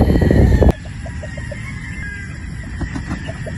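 A 3/4 Sweater, 1/4 Boston gamefowl broodstag rooster sounds near and loud for a short burst at the start, followed by softer clucks and scattered bird calls over a quiet farm background.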